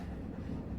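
A moving train rumbles inside the video game Final Fantasy VII Remake, a low steady rolling drone with faint rattling, continuous and fairly quiet over this brief moment, with no voices.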